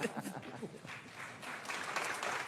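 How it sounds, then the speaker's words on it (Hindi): Audience applause at a Pakistani television talk show breaks out after the host's cue, a steady wash of clapping building slightly louder toward the end, with voices mixed in underneath. "तालियां"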